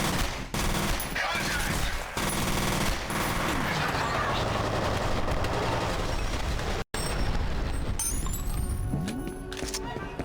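Dense, continuous automatic gunfire and explosive combat from the shooter game F.E.A.R., loud and chaotic throughout, with a brief cut near the end before the fighting resumes.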